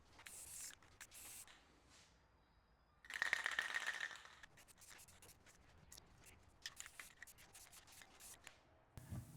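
A cloth rubs and wipes away runs of wet white spray paint with soft, scratchy strokes, one louder hissing burst early, then quiet intermittent scrubbing.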